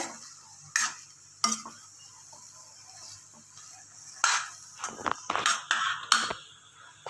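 Sukhi bhaji, a dry potato curry, stirred in a pan with a spoon: scattered scraping and clinking strokes against the metal over a faint sizzle, close and fairly quiet, with no talk.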